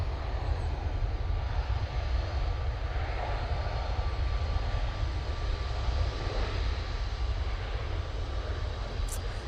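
A Qatar Airways Boeing 777 lands at Manchester Airport with a loud, continuous roar of jet engines and rushing air, steady and close throughout.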